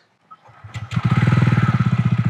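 A TVS Ronin motorcycle engine cranks briefly, then catches and settles into a steady, close, loud thumping idle.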